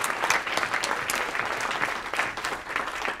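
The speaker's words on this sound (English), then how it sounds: "let's give a round of applause to this year's EcoHero Awards" An audience at an environmental awards ceremony claps steadily and fairly loudly for a few seconds, a dense patter of many hands with no voices standing out.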